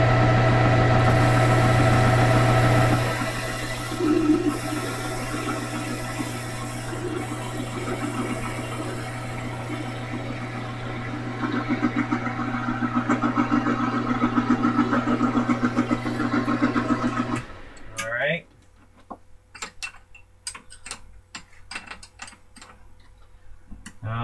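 A metal lathe running at 970 RPM while turning and facing with a left-hand turning tool gives a steady motor hum and faint cutting whir, then stops abruptly, leaving sparse clicks and handling noises.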